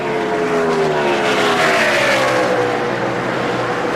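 NASCAR stock car at the 2002 UAW-GM Quality 500 race, its engine roaring loudly and continuously on the track, the pitch sliding as it passes. No voices are heard.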